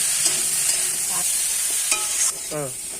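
Spices for a thin fish curry being stirred and fried in a little oil in a pan, a steady sizzle with brief scraping strokes of a spoon across about three seconds.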